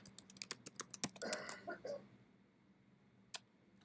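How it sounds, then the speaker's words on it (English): Quick run of keystrokes on a computer keyboard, about a dozen close crisp taps in the first two seconds, then quiet with one last isolated click near the end. "So if I start typing that"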